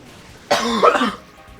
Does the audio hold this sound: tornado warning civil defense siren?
no